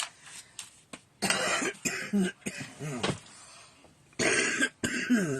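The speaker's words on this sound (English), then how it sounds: "Seem to have developed a bit of a cough." A person coughs repeatedly in harsh, loud bursts, close up, with short pauses and some throat clearing between fits.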